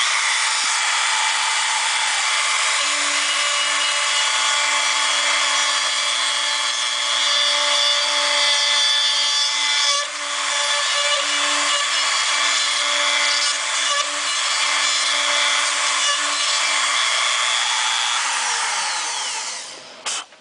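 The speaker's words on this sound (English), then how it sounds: "we've adjusted our roller bearing router bit 13/16 from the bottom of the platform to the very end of the router tip screw here" A router with a roller-bearing bit cuts around a steel bumper during a bullring install on a Dodge Ram, a loud steady high whine with gritty cutting noise that winds down at the end.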